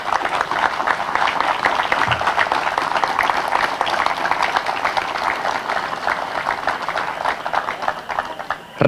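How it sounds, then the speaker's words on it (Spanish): Audience at a commemorative event in Puerto Rico applauding for a guest, steady dense clapping throughout at moderate loudness, with only faint voices underneath. "para quien pido un fuerte aplauso"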